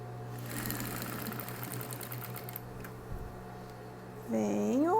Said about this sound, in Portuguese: Venho costurando bonitinho, dobrando certinho.